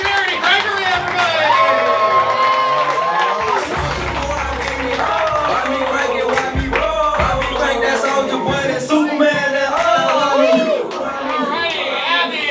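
An audience at a roast battle comedy show claps and cheers while a host keeps talking over the crowd and voices chatter throughout.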